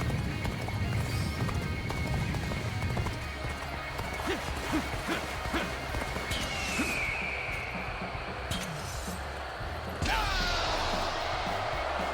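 Rhythmic hoofbeats of a galloping horse in the video game Dynasty Warriors Origins, with a whinny, a slam and game sound effects over a busy background.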